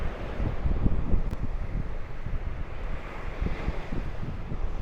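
Ocean surf rolls onto the beach at Pattaya, a constant rushing wash of waves mixed with heavy wind buffeting the microphone, loud and close with no talking.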